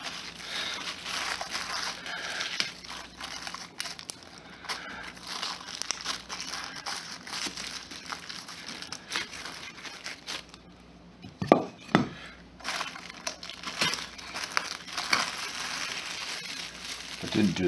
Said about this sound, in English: it is time to remove the plastic bag.